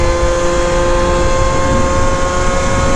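Yamaha Zuma/BWS scooter fitted with a Yasuni R expansion pipe, accelerating hard with a loud, steady buzzing two-stroke drone that stays close and continuous throughout.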